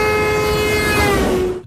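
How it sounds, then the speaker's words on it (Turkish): A loud car horn blares in one long continuous honk, close and sustained, before cutting off sharply. "basma şu kornayı"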